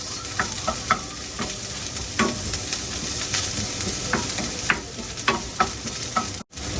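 Milkfish (bangus) sizzles in a hot pan with a steady frying hiss, broken by frequent scraping and clinking stir strokes from a ladle. A brief dropout comes near the end.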